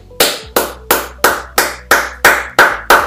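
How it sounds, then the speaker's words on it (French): One person claps hands eight times in a slow, even rhythm, each clap sharp, loud and close with a brief decay, nothing else heard between them. "Et j'applaudis pour vous."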